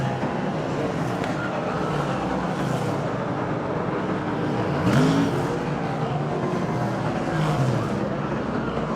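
Superstock speedway cars race around a dirt oval at the New Zealand Superstock Championship, a dense, loud engine roar with rising and falling revs from several cars passing.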